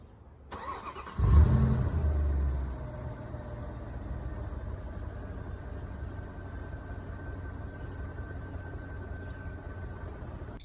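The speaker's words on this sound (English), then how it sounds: "So here we go with the startup." A Lingenfelter-modified 2010 Mercedes-Benz SL550 AMG roadster engine cranks and catches with a loud burst, then settles into a steady, even idle that runs for several seconds, with no voices.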